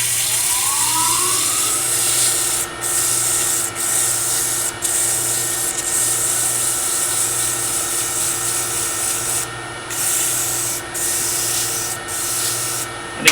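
Hand sanding with 180 grit sandpaper on a small wooden miniature piece, a continuous loud scratchy rubbing broken by a few brief pauses, with no talk.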